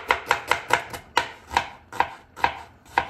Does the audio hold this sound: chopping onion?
yes